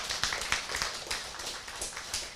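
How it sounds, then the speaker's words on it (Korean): An audience applauds in a presentation hall, a steady patter of many hands clapping at moderate distance, fairly faint and continuous with no voices on top. "박수를 보내주신 여러분"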